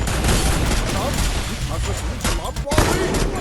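A water shark bullet jutsu firing in a Naruto-style action game, heard as a dense burst of rapid, loud, gunfire-like blasts with splashy bursts, continuous across the moment.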